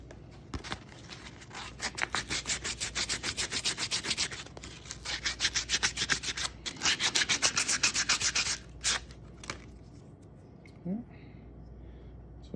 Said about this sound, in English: Let's go ahead and sand all these edges down to make them nice and smooth